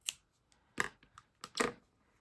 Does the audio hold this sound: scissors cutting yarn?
yes